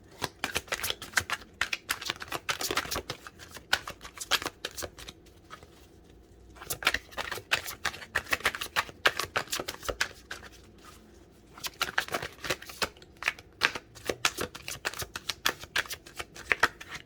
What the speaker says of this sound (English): And for the shuffling, you guys can skip if it's too long.